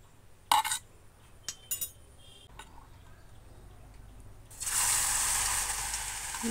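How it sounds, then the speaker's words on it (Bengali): Bitter gourd leaves coated in batter drop into hot oil to make fritters; a few clinks of utensils come first, then a loud, steady sizzle of frying takes over. "এইভাবে করে আমি সবগুলো ভেজে নেব"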